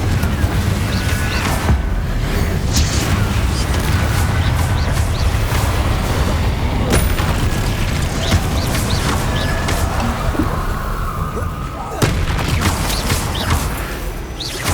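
Spell effects in Hogwarts Legacy, including Confringo fire blasts: a busy, steady wash of magical whooshes and crackling impacts with a few sharper bursts, no voices heard.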